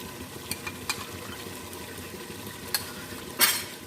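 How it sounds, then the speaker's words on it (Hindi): Yogurt being stirred into a mutton paya curry in a pot, with faint sizzling underneath and a few soft utensil scrapes and clinks, the sharpest knock near the end. "दही को हम मिक्स कर लेते हैं"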